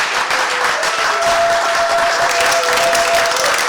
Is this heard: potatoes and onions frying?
no